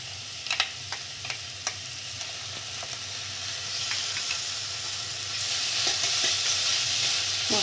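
Spice paste of salt, turmeric, cumin powder, coriander powder and ginger-garlic frying in oil, a few early spoon clicks and scrapes over a steady sizzle that swells louder and hissier toward the end, close with no voices.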